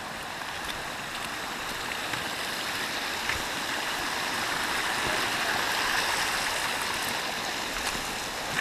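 Water runs steadily over a stream ford on a mountain trail, a broad continuous rushing wash that stays at an even level throughout with no voices over it.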